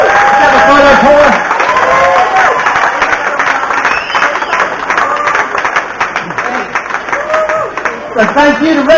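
Crowd applauding contestants at the 2017 Sunshine Coast Chilli Championship, loud sustained clapping and some cheering, with a voice on a PA talking over it at the start and end.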